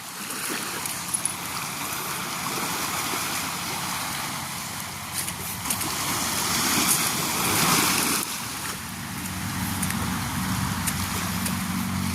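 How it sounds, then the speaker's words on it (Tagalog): Sea waves wash steadily onto the shore beside the ocean, a broad continuous roar with gentle swells and a louder surge midway, carried along with some wind noise and no talking. "Dalam muna tayo dito sa tabi ng dagat."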